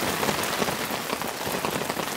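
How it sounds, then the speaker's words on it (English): Heavy rain drums on a camping tent during a rainstorm, a dense, constant patter of drops striking the fabric up close, steady and unbroken with no talking. "this rain has been... It's just relentless"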